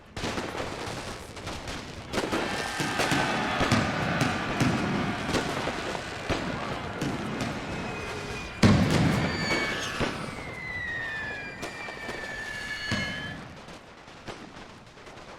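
Howitzer artillery fire during a World War One siege battle in a Total War game: a dense fusillade of sharp cracks and distant thumps, with one heavier boom midway and faint whistling shells overhead.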